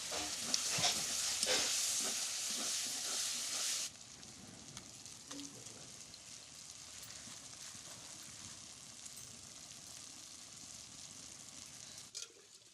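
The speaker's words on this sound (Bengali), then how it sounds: "মশলা ভালো করে কষিয়ে অল্প জল দিয়ে মাংসটা দিয়ে দেবো" Goat meat scraps and spices fry in a pan, a bright sizzle for the first few seconds that drops to a faint, low hiss with occasional light clinks, no voices heard.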